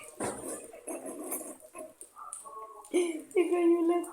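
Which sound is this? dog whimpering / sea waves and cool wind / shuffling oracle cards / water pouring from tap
dog whimpering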